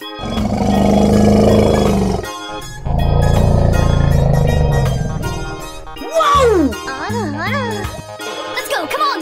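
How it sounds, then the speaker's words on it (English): An elephant call sounds as a loud, harsh roaring blast that repeats twice, followed by wavering, swooping trumpet-like tones at the end. "Elephant."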